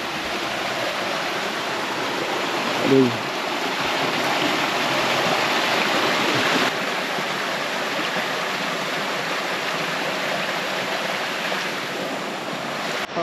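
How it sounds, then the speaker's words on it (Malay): Small stream crossed on a hike near Lata Makau, Kuala Kubu Bharu, its water rushing steadily and loudly close by as a broad continuous wash, with a brief voiced exclamation partway through. "Tapi ni anak sungai yang pertama kecil je."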